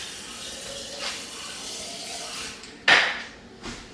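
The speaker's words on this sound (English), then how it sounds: "So since both of them out, add a little water to it." Water added into two jars in a kitchen while making chicken alfredo, a soft pour and trickle at first, then a sharper splash and clink near the end, quiet and close.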